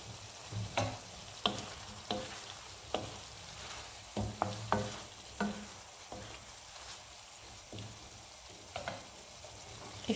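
Pasta with asparagus and seafood being sautéed in a pan with a drizzle of oil over high heat, a low constant sizzle broken by irregular tossing clatters and scrapes across several seconds.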